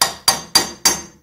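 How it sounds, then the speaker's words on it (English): A lump hammer strikes a box spanner used as a drift to drive a pinion onto the crankshaft of a Triumph Trident T160 engine: four sharp metallic blows, evenly spaced and close, each ringing briefly before the next. "And with the help of a dear old lump hammer and drift,"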